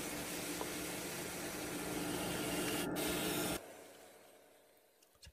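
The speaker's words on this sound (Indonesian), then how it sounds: "Untuk cara membelahnya, kita hanya menggerinda bagian sambungan kompresor ini, sambungan tengah ini ya." An angle grinder cuts along the middle weld seam of a compressor shell, a steady broadband grinding hiss for about three and a half seconds that then stops abruptly, leaving near silence.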